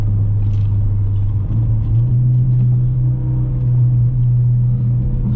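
A 2017 Ford Focus RS with 43k miles, driven on the road, gives a steady low engine rumble and drone from inside the cabin with a slight rise partway through, no voices.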